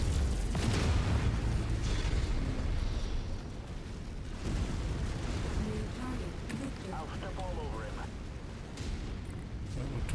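Explosions from shooting a tank in the MechWarrior 5 video game give a dense, loud roar of blasts and rumbling impacts that continues throughout, with a person speaking under the din.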